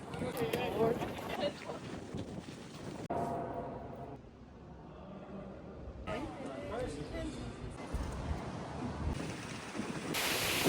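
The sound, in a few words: strong wind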